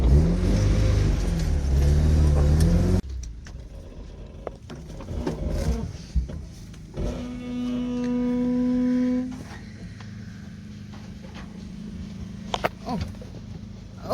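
A Datsun 120Y fitted with an L18 engine and a homemade, faulty throttle linkage revs loudly up close, then idles more quietly with brief rises at part throttle.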